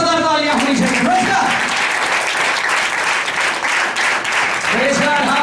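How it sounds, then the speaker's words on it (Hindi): A church congregation breaks into loud, sustained applause for Jesus during a sermon, dense clapping filling the whole stretch, with a voice speaking briefly at the start and end. "यीशु के लिए जोरदार तालियां होनी चाहिए।"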